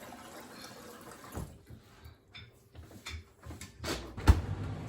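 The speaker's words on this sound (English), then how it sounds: "So first we just put some water in a small pan, like a saucepan." Water poured into a small saucepan while making miso soup, faint splashing and trickling with a few soft knocks and clatters, fairly quiet and close.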